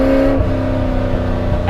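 A Ford GT40 racecar engine roars up close, a loud, steady, throaty drone with a shift in pitch partway through, heard alone without talk.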